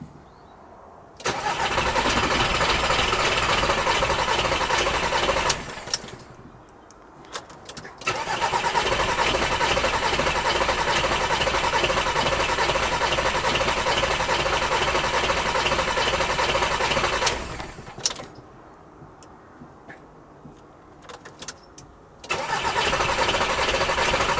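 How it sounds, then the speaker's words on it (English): A VW T5 van engine after a fuel filter change, cranking briefly and then firing into a loud, close idle. It cuts off and restarts twice, with short quiet gaps and light clicks between the runs. "it takes about 10-15 seconds of cranking there to actually get the fuel back into the filter"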